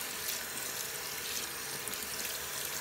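Water running from a tap into a sink while hands are rinsed, a soft continuous splashing rush, faint and steady throughout with no voices.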